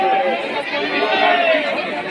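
A large, dense crowd at the Kishanpur Lingeshwar Shivling temple, a continuous loud murmur of many overlapping voices chattering close by without pause.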